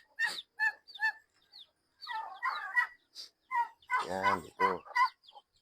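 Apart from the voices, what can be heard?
chickens clucking in coop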